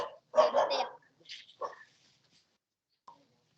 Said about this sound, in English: I only hear the dog barking.